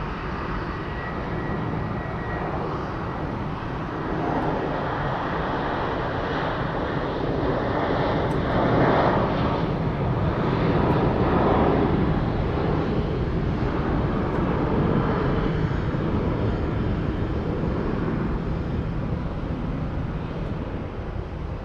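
A Southwest Airlines jet taxis at Phoenix Sky Harbor airport, its engines producing a steady broadband roar that swells slightly midway and holds at moderate distance, with light wind noise.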